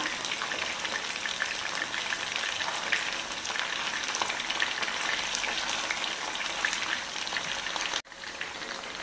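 Chilli chicken pieces deep frying in hot oil give off a steady, dense crackling sizzle for nearly the whole stretch, with a short dip near the end before the bubbling resumes.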